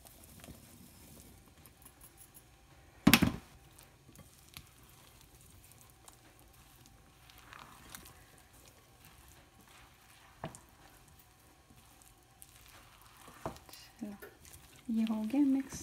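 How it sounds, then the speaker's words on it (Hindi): Blueberries folded into thick muffin batter with a spatula, soft wet squishing and stirring with occasional louder knocks against the bowl, mostly quiet and close, with a few brief bursts of talk. "अब ये ब्लूबेरीज भी इसमें साथ ही डाल देती हूँ ताकि अच्छी तरह से फोल्ड हो जाए"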